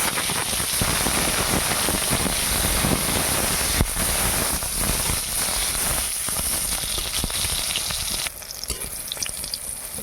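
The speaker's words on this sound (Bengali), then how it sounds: "এবার পটলটা ভাজবো।" Pointed gourd (potol) frying in a pan gives a busy, crackling sizzle throughout, loud and close, easing slightly near the end.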